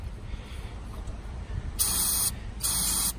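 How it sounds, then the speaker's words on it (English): Two short bursts of brake cleaner spray hiss sharply into a Ford Escape's throttle tube, close by, separated by a brief pause, over a low background rumble. "So I'm going to spray just a little bit of brake cleaner."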